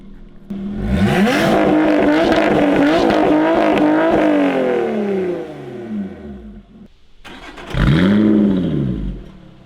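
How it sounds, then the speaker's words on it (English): A Lotus sports car with a titanium exhaust revs hard and loud for several seconds, drops back to idle, then gives one more sharp blip that fades away. "just do a couple of blats just to see if they actually sound any different"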